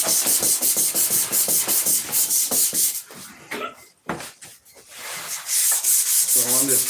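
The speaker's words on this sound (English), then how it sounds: "So on this prop, you'd actually sanded it." Sandpaper rubbed over a wooden model airplane propeller in fast, rhythmic back-and-forth strokes, close and loud, pausing for a few scattered knocks and handling sounds before the sanding resumes.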